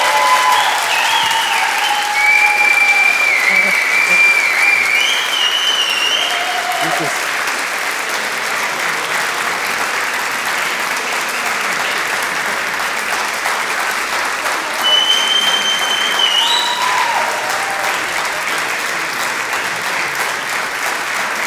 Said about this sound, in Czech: Takže potlesk.